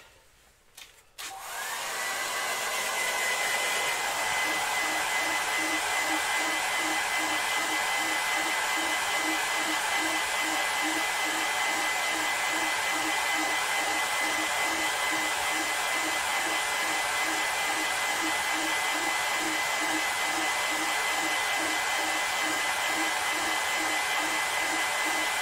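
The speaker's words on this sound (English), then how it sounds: "I've got Mrs. Oliver's air dryer. Let's give this a quick wham on" A hair dryer switches on and runs for a long stretch in a workshop, drying lacquer on a wood-turned vase, a loud steady whooshing roar with a fast pulsing motor whine, no speech.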